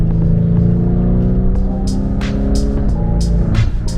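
BMW F10 M5 with its naturally aspirated engine, heard from inside while driving: a loud, steady engine drone that rises in pitch then drops as it shifts, with brief higher whooshes of passing traffic.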